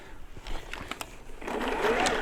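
A B&Q MacAllister cordless lithium-ion battery lawnmower runs close by, its electric motor whirring and grinding, growing louder and fuller over the last second.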